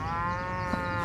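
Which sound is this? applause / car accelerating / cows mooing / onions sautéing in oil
cows mooing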